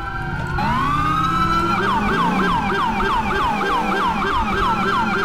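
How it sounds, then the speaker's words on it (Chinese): Ambulance siren from the video game GTA IV, played with a police mod, rising in one long sweep and then cycling through a rapid, loud, close yelping wail that repeats steadily. "好，救护车来了，救护车来了"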